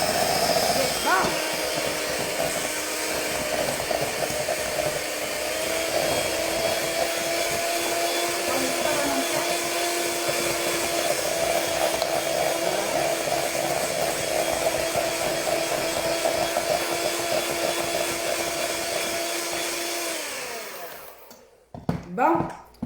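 An electric mixer whips a cheese mixture for a mille-feuille with a loud, steady motor whir lasting about twenty seconds before switching off, with voices faintly audible beneath.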